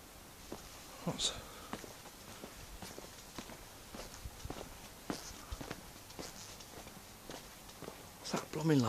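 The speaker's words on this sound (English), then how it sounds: "I can hear footsteps still." Footsteps outdoors at night, a series of soft, uneven steps fairly close by, mixed with faint rustling and brief talk in the quiet.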